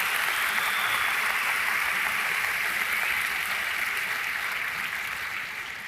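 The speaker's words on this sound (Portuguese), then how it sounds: "aplauda o Senhor" Sustained applause from a church congregation during a sermon, a dense, steady wash of many hands clapping together that holds even and fairly close before easing off slightly at the end.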